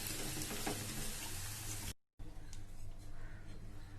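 Cauliflower pieces for gobi manchurian sizzle and crackle steadily in hot frying oil, loud and close, with a momentary gap before the bubbling resumes a little softer.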